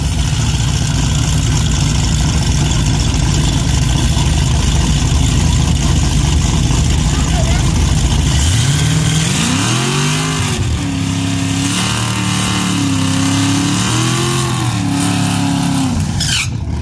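Drag racing cars at Pageland Dragway during the Fall Brawl event, with loud engines idling in a rough steady rumble that breaks into repeated rising revs and throttle blips, heard close and loud outdoors.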